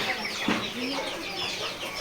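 Chickens at a poultry seller's stall selling local and Tiger breed chicks, with soft overlapping clucks and chirps from several birds close by, steady and continuous, with a faint voice in the background.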